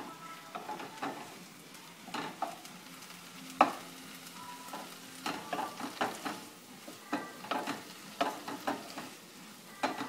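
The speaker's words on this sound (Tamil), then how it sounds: "இது நல்லா சாட்டே ஆயிட்டு இருக்கு" Onion, tomato and masala sautéing in a pan for pattani masala, with a steady soft sizzle and repeated scraping stirs and light utensil taps, no voices.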